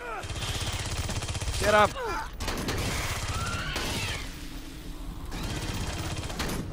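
Gunfire in the video game Aliens: Colonial Marines comes in loud, dense bursts through most of the stretch, with a brief lull midway, while voices shout over the shooting.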